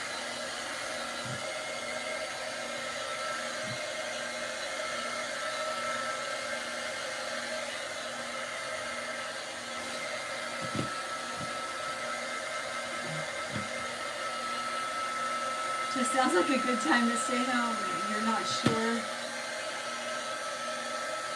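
A hair dryer blows steadily on craft work, a constant loud whooshing hum that runs the whole time, with a person chatting over it and brief clattering near the end.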